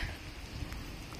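Rain falls steadily on an outdoor sightseeing stop in Switzerland, making a soft, constant broadband hiss over a low rumble. It stays fairly quiet and even throughout, with no voices.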